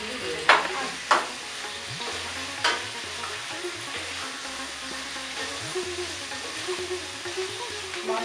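Meat frying with cabbage in a pan gives a quiet, steady sizzle with a few sharp scrapes or knocks near the start. Close but faint, with no talking.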